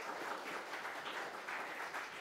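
A group applauds steadily for a couple of seconds after a middle school team's presentation at a competition, the clapping soft and somewhat distant, forming a continuous wash of sound.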